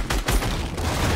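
Gunfire in Fortnite, a rapid burst of several close, punchy shots in quick succession followed by a dense rattling tail.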